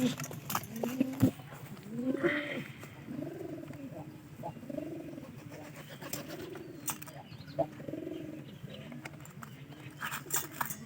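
Caged pigeons cooing, with repeated soft, throaty coos in a loose rhythm close by, scattered clicks and rustles among them, and a voice faintly present.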